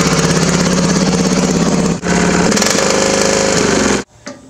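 A Poulan riding lawn mower engine runs loud and close at a steady pace, with a brief dip near the middle, then cuts off abruptly, leaving faint low rumble.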